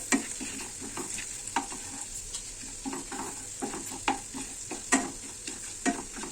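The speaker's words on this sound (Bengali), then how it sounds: "পেঁয়াজ রসুনটা আমি গাওয়া গিয়ে মানে বাটারে ভেজে নিচ্ছি" Onion and garlic fry in butter in a pan for a chicken stew, hissing in a steady close sizzle. Regular scraping pulses come as the mixture is stirred, and no one talks.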